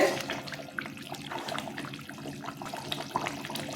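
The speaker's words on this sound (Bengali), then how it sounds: "মাছের জোর কেমন ফুটছে" Soft, continuous bubbling of katla fish curry boiling in a pot, faint and steady with small pops.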